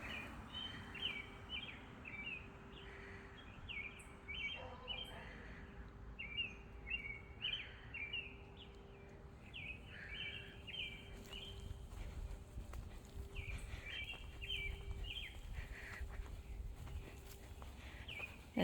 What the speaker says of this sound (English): You hear the peaceful bird song.